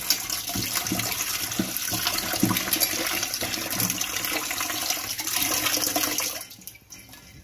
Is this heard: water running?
yes